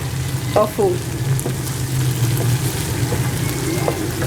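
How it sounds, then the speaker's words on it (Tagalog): Chicken sisig with tofu sizzles and fries in a pan, a steady crackle with a low hum beneath and a few scraping stirs near the start, close and moderately loud. "Luluto ako ng sisig. Ayan, favorite chicken sisig na may tofu."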